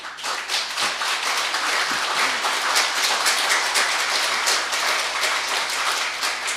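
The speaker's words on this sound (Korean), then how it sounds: "우리 한번 손 들고 박수 한번 쳐보시죠." Audience at an academic seminar in the National Assembly Library claps hands together, a dense, steady wash of applause lasting several seconds at full, close level, without talk.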